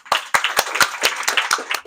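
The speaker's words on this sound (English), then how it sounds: "please, let's give Lorena a round of applause" A small group claps for Lorena at an evening design event, with sharp, uneven claps close by that begin after a brief pause and carry on steadily.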